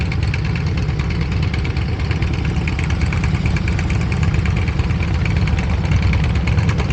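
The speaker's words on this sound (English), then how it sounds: "I'll just wait here and let that motorcycle go by." A group of loud motorcycles rolls through a parking lot at Fort Miley in San Francisco, their engines a thick, steady, rumbling drone that stays close and fills the whole stretch without any talking.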